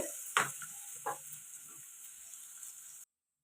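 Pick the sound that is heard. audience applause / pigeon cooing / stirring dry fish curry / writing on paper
stirring dry fish curry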